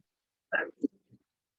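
A single short sneeze, close and fairly quiet, followed by a couple of faint breathy sounds.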